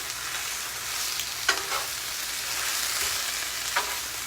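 Cabbage fries in oil in a pan, a steady close sizzle with a few sharp stirring clicks and scrapes spaced out across about four seconds.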